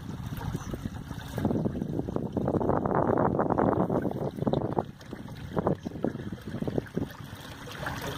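A small camping boat motors along a river with the sail down, its steady low drone rising and falling in the middle, mixed with wind buffeting the microphone and splashing water, no talk.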